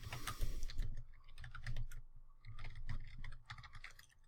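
Quick typing on a computer keyboard, irregular bursts of close, crisp key clicks with short pauses between runs, fairly quiet and alone without talking.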